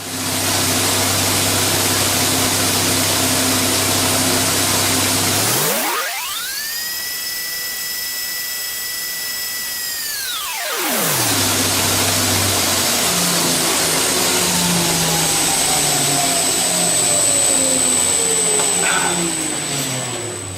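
A bench grinder shapes a bushcraft knife blade with a loud, continuous high whine. The pitch dips as the blade bears down, then climbs back up and holds steady.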